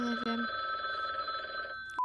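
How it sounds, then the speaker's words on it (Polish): A telephone bell rings continuously and close for about two seconds before cutting off, with a voice briefly audible at the start. "Odbierz ten telefon."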